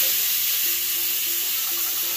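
A pressure cooker holding jackfruit seeds vents its remaining steam after the whistles, giving a continuous, fairly loud hiss that stays steady from start to finish.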